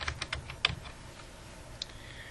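Keystrokes on a computer keyboard while entering labels into an Excel spreadsheet, a short burst of several quick clicks followed by a couple of isolated taps, close and clear over a quiet room hum.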